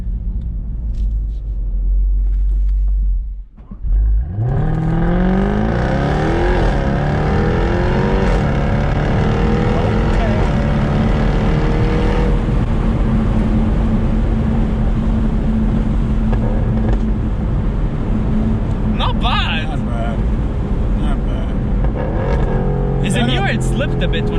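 Jaguar F-Type R V8 sports car idling, then revving hard in a launch from standstill, a loud sustained engine roar with rising pitch close to the microphone, with talk over it.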